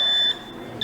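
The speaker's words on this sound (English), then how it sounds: "And then in 3 seconds, the door starts beeping like this." An emergency exit door alarm sounds after the door is pushed: a high, thin electronic beep holds for about a third of a second, pauses, then starts again, close and clear.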